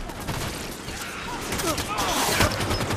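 Halo 5 gunfire in rapid bursts, fast crackling shots layered over dense battle noise, growing louder toward the end.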